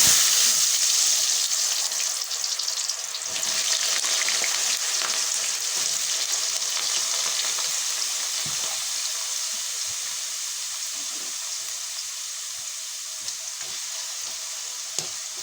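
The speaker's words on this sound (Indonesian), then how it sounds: "Nah ini lanjut kita mau goreng dulu kentangnya." Potatoes fry in hot oil, a loud, continuous crackling sizzle that starts strongest and settles slightly over time, with occasional stirring clinks and no talking.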